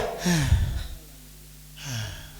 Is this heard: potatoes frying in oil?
no